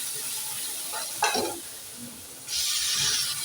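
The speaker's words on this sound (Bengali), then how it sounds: "ভালো করে মিশিয়ে নিচ্ছি।" Masala Maggi noodles being stirred in a hot pan, a soft sizzle and hiss underneath occasional scraping strokes of a spoon, with a louder burst of frying sizzle near the end, close and moderately quiet.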